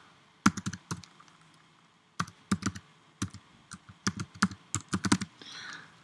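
Keys clack on a computer keyboard as a command is typed, quick clusters of crisp taps broken by short pauses, close and alone in a quiet room.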